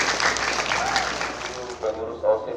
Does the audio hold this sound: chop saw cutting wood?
no